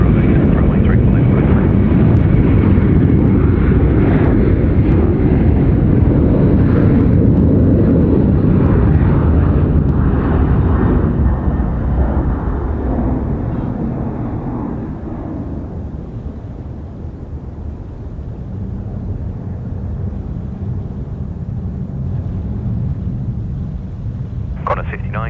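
A Cathay Pacific Boeing 747-8 takes off from Sydney's runway 34 left, its engines a loud, continuous roar that thins into a distant rumble as the jet climbs away, with a voice talking over it.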